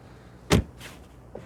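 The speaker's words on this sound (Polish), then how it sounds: "po zamknięciu szyby, jak to w samochodach, które mają drzwi bez ramek, samoczynnie się domykają" A single solid frameless door of a Mercedes-Benz CLS 350 CDI coupe thuds shut, short and fairly close, followed by faint rustling and a small click as the window closes.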